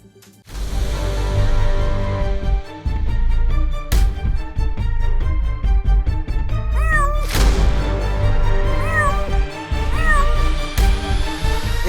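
A kitten meows repeatedly over loud music inside a hospital pharmacy, its cries rising and falling in pitch, close and clear.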